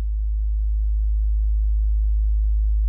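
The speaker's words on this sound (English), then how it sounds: "there's our obviously a sine wave. But again, it's in audible range." A Moog Matriarch synthesizer's LFO outputs a steady, low-pitched sine tone raised into the audible range, heard as a constant, unwavering hum held alone throughout.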